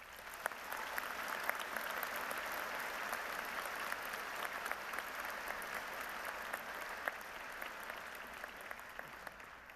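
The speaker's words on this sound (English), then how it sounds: "Let's give the entire Boise Music Week organization another round of applause." An audience gives a steady round of applause for the Boise Music Week organization at a music show, a dense, even wash of clapping from a crowd heard at a moderate distance for about ten seconds.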